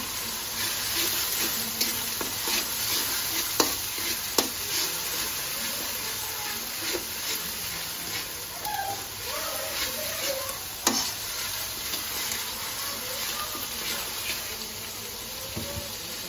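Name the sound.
onions frying and being stirred in a pan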